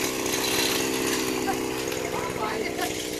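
A Newborn gas-powered earth auger bores a 12-inch hole in soil with roots and rocks during home extension work, its small engine roaring steadily and loud throughout with a buzzing, rattling drone.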